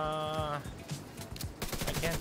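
Gunfire in the video game The Division 2 during a Dark Zone fight, with rapid bursts of shots over about two seconds that are mixed with a voice talking.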